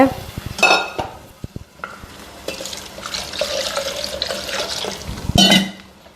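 Boiled vegetables are tipped into a pot of araithu vitta sambar in a home kitchen, making close clattering, wet splashing and stirring sounds, with sharp bursts at the start and end and softer sloshing between.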